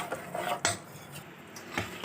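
Milk and egg with a little food colouring being stirred in a bowl, a utensil clinking and scraping against the sides in a few irregular taps and strokes, close and fairly quiet, with no talk.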